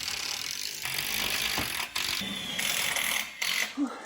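Screws driven into a table top with a power driver, a steady mechanical whirring and ratcheting that runs for several seconds with brief pauses.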